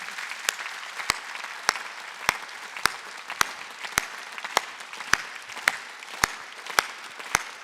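A congregation at a Korean church Sunday worship service claps in unison, about a dozen sharp, evenly spaced claps in a steady slow beat over a quiet room.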